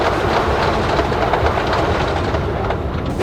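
A moving train rumbles loudly and continuously, with a rhythmic clickety-clack of wheels over rails, passing close by without any voices.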